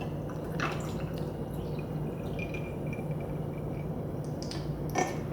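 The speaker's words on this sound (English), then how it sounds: "And then I'm gonna pour the tea in." Thai iced tea poured into a glass of ice and milk, a faint steady liquid stream with a few soft drips and ice clicks, close by and quiet throughout.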